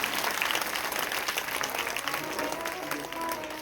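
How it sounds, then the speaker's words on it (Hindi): An audience at a Shreemad Bhagwat katha religious gathering breaks into steady, dense applause, many hands clapping continuously at moderate distance, with a voice briefly audible. "आप सब एक बार उनके लिए जोरदार तालियां बजाएं"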